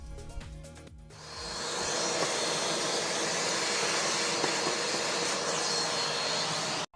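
A shop vacuum roars steadily and loudly, sucking debris out of pockets in an upcycled mirror project, starting after a second of clatter and holding a broad, even whoosh to the end.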